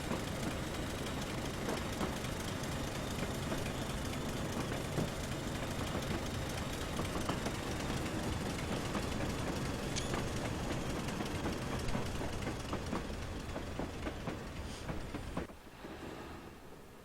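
A Class 25 diesel locomotive with a brake tender rumbles past on a Weardale and Teesdale railway line in Train Simulator 2015, a steady engine drone with faint rail clatter that drops away near the end.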